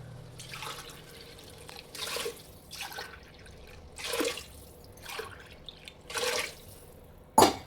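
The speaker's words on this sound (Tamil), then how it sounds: "ஸோ இப்போ 3 டம்ளர் தண்ணி விடுறேன்" Three tumblers of water poured into a pot of rice for a drumstick-leaf rice dish, heard as several separate splashing pours and drips close by, with a sharp clink at the end.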